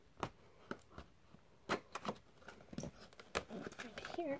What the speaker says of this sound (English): We'll just cut a little tape.